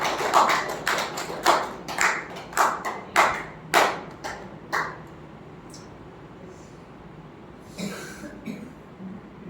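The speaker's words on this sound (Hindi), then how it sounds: "तो जितने तैयार हैं उनके लिए तालियां बजाइए।" About eight or nine sharp, separate claps ring out in an uneven rhythm from a small group in a diet and health session, loud and close, then fade into quiet room tone with a last faint tap near the end.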